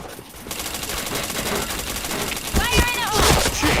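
Rapid video game gunfire crackles in dense bursts through a chain of headshots, with a brighter electronic sweep in the final second; a voice speaks under the shooting.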